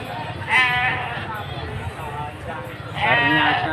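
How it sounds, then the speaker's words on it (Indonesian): Jawa Randu goats bleat twice, each a loud, wavering cry, against the steady murmur and bustle of a crowded livestock market. "Ternyata di dalam pasar Dimoro juga banyak kambingnya."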